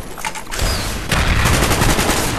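Rapid AK rifle fire bursts from a first-person shooter video game, loud dense automatic rattles that run almost continuously with short gaps, with no talking.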